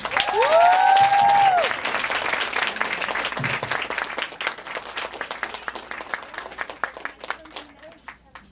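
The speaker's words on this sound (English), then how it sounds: "Please help me welcome them by giving them a warm round of applause." An audience gives a warm round of applause to welcome authors at a San Francisco book event, with loud dense clapping and a few whoops at first, then thinning to scattered individual claps.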